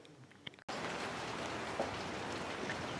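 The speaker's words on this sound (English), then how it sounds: "We're having a lot of nice, good rain." Steady, dense rain falls outdoors, a continuous broadband hiss of drops on surfaces that starts abruptly after a brief quieter moment and keeps an even, fairly loud level throughout.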